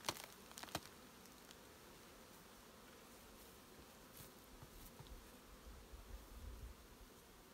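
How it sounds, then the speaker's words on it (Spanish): A low, steady hum of many honey bees buzzing close by while hive supers are removed, with a few sharp clicks and knocks near the start and a swelling drone toward the end. "Tengo que sacudir las abejas."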